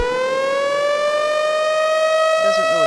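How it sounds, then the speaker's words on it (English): An STH-10 civil defense siren wails loud and steady at close range, its pitch rising slowly throughout, with a brief faint warbling sound entering near the end. "open up a clear recording of an STH-10 going off"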